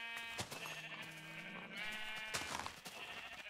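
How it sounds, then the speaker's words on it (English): Minecraft sheep bleat repeatedly in the video game, several wavering, drawn-out calls overlapping one another over a steady background, fairly loud with no talking. "I'm gonna go kill the sheep."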